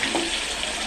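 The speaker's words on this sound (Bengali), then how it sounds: "এই যে তেল গরম হয়ে গেছে, মাংসগুলো আস্তে আস্তে দিয়ে দেব, ভালো করে একটু ভেজে নেব।" Pieces of meat fry in hot oil in a home kitchen, giving a close, steady, hissing sizzle over a short moment.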